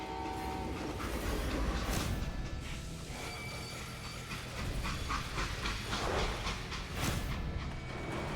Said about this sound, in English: They hopped a freight train.